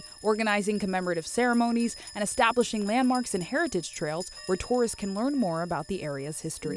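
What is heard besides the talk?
bells ringing in Africatown commemoration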